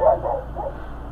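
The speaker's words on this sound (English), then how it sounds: "I'ma yell at the fucking dogs to shut the fuck up" Dogs bark in a residential neighborhood, several loud yipping barks clustered at the start, then a softer bark or whimper, heard fairly close with no talking.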